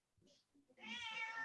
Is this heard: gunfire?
no